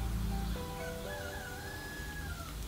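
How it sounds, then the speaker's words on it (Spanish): Rooster crowing early in the morning, a long rising-and-falling call heard clearly at moderate distance over a steady low background hum. "¿Ya escucharon el gallo?"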